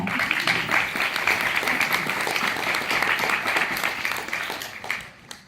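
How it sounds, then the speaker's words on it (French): A crowd at a citizens' meeting in Conches-en-Ouche, France, breaks into sustained, dense applause that holds steady for several seconds before starting to fade. "je crois que j'aurais envie d'applaudir"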